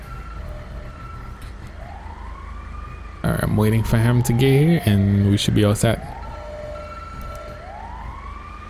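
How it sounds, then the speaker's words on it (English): An emergency vehicle siren in GTA 5 with a paramedic rescue mod wails in slow rising and falling sweeps in the background, while someone talks over it in the middle. "I forgot to change the siren."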